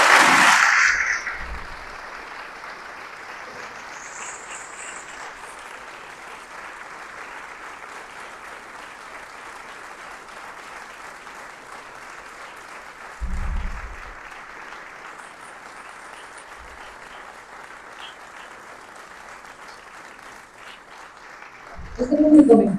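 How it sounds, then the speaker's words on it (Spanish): An audience applauds at a book presentation in Portugalete. A steady wash of clapping lasts throughout, between louder bursts of voices and sound at the start, in the middle and at the end. "Un aplauso, por favor."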